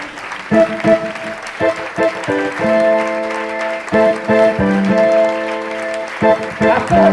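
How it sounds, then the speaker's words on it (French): A church congregation stands and applauds the Lord, with loud rhythmic clapping mixed with sustained organ or keyboard chords and some voices. "On va se lever, on va acclamer le Seigneur."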